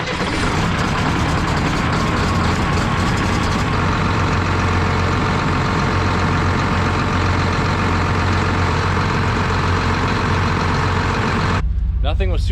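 A tractor engine that is leaking oil runs at a steady, loud, low idle throughout, its heavy rumble continuous under occasional talk, and it cuts off abruptly near the end.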